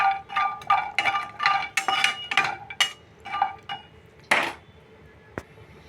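A spoon clinks and scrapes against a pan as dry fruits are fried for laddu, giving a run of close, irregular metallic taps and rattles that thin out toward the end.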